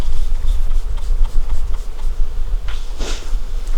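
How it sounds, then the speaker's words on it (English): Honeybees swarm inside an opened beehive during an October hive inspection, a steady close-up drone of buzzing wings with a low rumbling undertone and occasional louder passes near the microphone. "Lots of bees."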